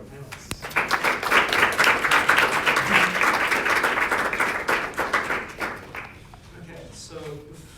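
An audience applauds a panel at a talk on whether AI will take jobs, steady clapping for about six seconds that thins out toward the end.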